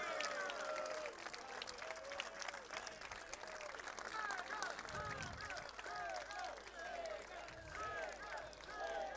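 A crowd at a Chega party political rally in Portugal applauds its deputies and parliamentary leader, sustained dense clapping mixed with cheering and whistles, filling the space continuously at a steady level.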